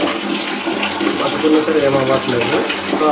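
Hot water runs steadily from the tap of an electric geyser, a close, continuous rushing stream with a faint voice underneath.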